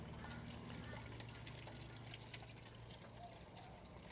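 Running water pours and trickles steadily through a pipe in a solar aquaponics system for several seconds, a continuous liquid rush with a low hum underneath.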